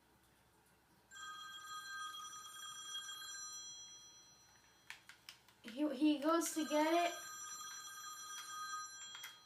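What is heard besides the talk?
telephone ringing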